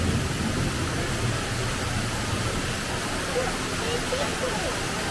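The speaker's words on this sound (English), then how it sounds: "Oh, there's a waterfall over here." Steady rushing water roars broadly, a constant dense wash from a nearby waterfall on an EPCOT boat ride, with faint voices beneath it.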